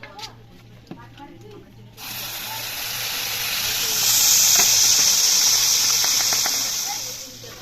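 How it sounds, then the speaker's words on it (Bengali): Marinated blended spice paste for chicken chaap hits a hot pan over a village wood fire, bursting into a loud hissing sizzle that swells and then eases, with a quieter lead-in and a few clinks. "এবার চিকেন চাপটা হবে, মশলাটাকে এবার কষিয়ে নিতে হবে।"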